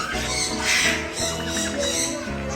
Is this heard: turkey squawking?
yes